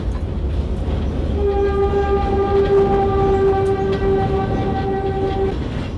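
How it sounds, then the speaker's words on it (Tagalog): A train rumbles along with a steady low rattle, then a long sustained horn-like tone rises over it and holds for several seconds before stopping. "Maalog yung tren, maalog din yung Santo Niño."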